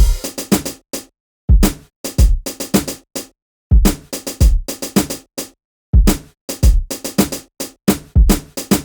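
A tight, evenly quantized drum loop of sampled hits, punchy kicks and crisp snares in a steady repeating pattern with clean gaps between phrases.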